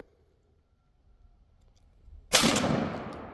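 A Winchester Longbeard XR 3-inch shotgun load of number 6 shot, 1 3/4 ounce, fires once as a single loud, close blast that rings out and slowly decays after a near-silent lead-in.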